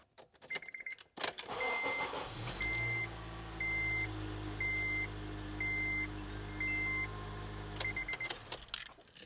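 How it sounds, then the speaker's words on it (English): A vehicle starts up with an Ancel BS200 super starter installed. The engine cranks briefly and catches, then settles into a steady idle, close by. Repeated dashboard warning chimes sound above the engine. "So we're gonna go start the vehicle."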